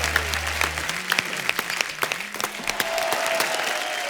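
A studio audience at a comedy talk show bursts into loud, sustained applause, a dense wash of clapping with a few sharper claps standing out.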